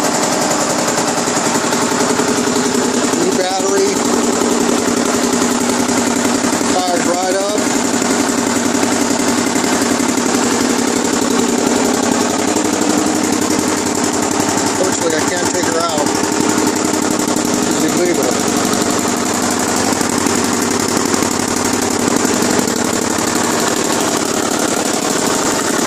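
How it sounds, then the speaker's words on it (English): Single-cylinder Honda XL500R motorcycle engine, a thumper just reassembled with a new used cover, running at a steady loud idle with chugging pulses, while a voice speaks briefly over it. "Fired her up. The sounds of a thumper."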